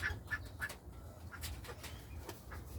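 Cayuga ducks on a small backyard farm give short repeated quacks and calls, mixed with fluttering and low rumbling background noise, fairly close and moderately loud.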